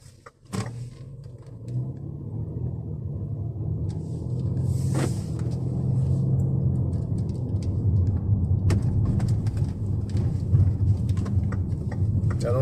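A car pulls away and drives along a road, its engine rumble rising after a brief click and holding as a steady low drone with road noise and occasional small knocks.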